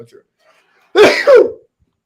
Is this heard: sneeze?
yes